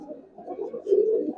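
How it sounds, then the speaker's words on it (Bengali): Old-breed Giribaz pigeons coo close by, giving a soft, low, burbling call that swells toward the end of the short moment, with no talking. "পুরান জাতের যে কবুতর গুলো সব কবুতর ছাড়তেছি"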